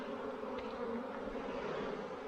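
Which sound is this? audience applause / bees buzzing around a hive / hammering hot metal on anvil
bees buzzing around a hive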